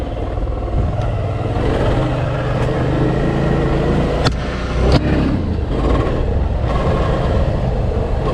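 A Suzuki adventure motorcycle churns through loose sand off-road, its engine droning steadily with rough, gritty rumble and brief thumps from bumps, close and loud.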